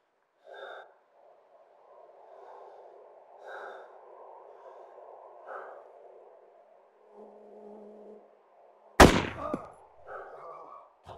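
A single loud, sharp gunshot in DayZ cracks out near the end, following quiet breathing and muffled movement, then fades into faint rustling.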